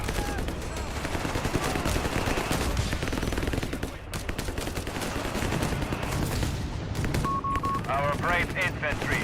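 Machine gun fire in the Company of Heroes 3 video game rattles in rapid, sustained bursts over battlefield noise, with a brief electronic beep and a voice near the end.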